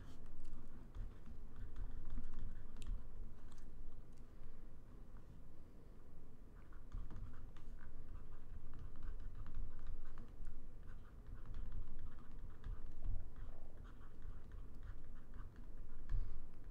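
Steady typing on a computer keyboard as notes are jotted down during a lecture, a continuous patter of key clicks at close range for the whole stretch with no talk over it.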